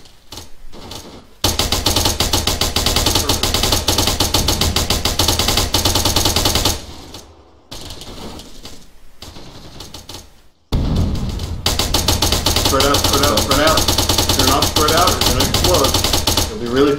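Long bursts of rapid automatic gunfire, loud and dense, broken by short pauses and a quieter stretch, with shouting voices mixed in near the end.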